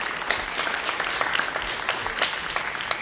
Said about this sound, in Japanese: 両選手に今一度大きな拍手をお願いいたします